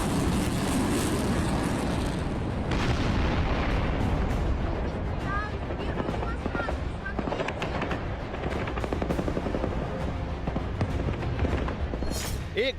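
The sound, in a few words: Russian missile explosion in Donetsk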